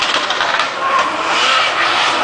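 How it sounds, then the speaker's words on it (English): An R32 Driftworks drift car screeches its tires at Lydden Hill during 2013 Super Pro qualifying, a loud continuous squeal with engine roar that stays close and steady throughout. "Phil Morrison in the R32 Driftworks car."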